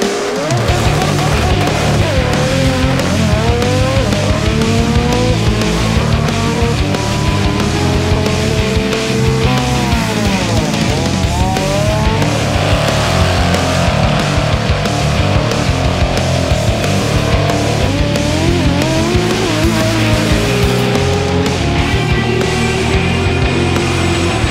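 Import race cars roar down a drag strip at a South Jersey track, loud engines revving and shifting with rising and falling pitch sweeps, continuous and close throughout without talk.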